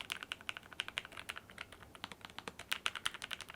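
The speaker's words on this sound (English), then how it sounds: "give you a little ASMR action on how this thing types. It is so satisfying and creamy." Rapid, steady keystrokes on a wireless Bluetooth keyboard with a soft, creamy feel, typed close up and alone, with even clicking bursts running throughout.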